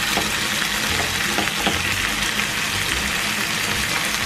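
Chicken breast sizzles steadily in a pan for a chimichurri dish, a loud, even, continuous frying hiss with faint crackles and no voices.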